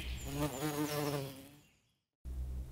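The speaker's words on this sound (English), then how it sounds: "Honeybee." A honeybee buzzes steadily up close with a wavering drone, fading out before a brief silence and then a short return of the hum.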